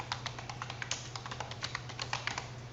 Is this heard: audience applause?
no